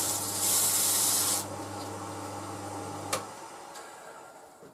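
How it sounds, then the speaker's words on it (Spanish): Sandpaper rubbing against wood turning on a lathe, a steady close hiss with a high whine in the first seconds, then quieter scratchy rubbing and a brief sharp tick near the end. "Empieza por bien lijar todo, con uno gordito, y luego el fino es solo para acabar."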